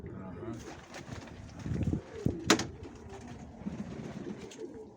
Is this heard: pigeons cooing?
yes